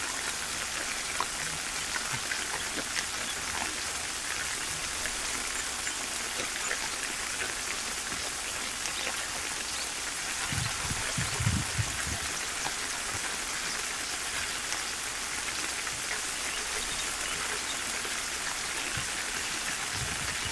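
Steady rain falls over a village, a broad, even hiss of drops on surfaces that continues unbroken, with a brief low rumble partway through and no talking.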